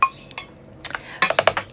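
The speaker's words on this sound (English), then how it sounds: "You want to make sure that you get everything out of this pan." A utensil scrapes and knocks cooked onion and garlic out of a pan for a zucchini cream soup, giving a few sharp clinks followed by a quick run of scraping taps, close and fairly loud.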